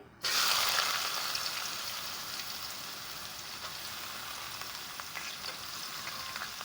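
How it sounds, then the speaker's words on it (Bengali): Finely cut potato slivers drop into hot oil and fry, starting with a sudden burst into a dense, steady sizzle that holds loud and close, with occasional light stirring clicks. "দিয়ে দিলাম আমার আলু কুচি এখন এটাকেও আমি ভেজে নিব"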